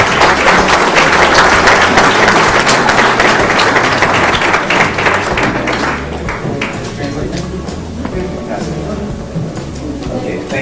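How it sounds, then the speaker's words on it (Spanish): Loud, close audience applause for David, the producer, at a presentation event in Querétaro, starting dense and gradually thinning out, with voices talking over the clapping. "Un fuerte aplauso para David,"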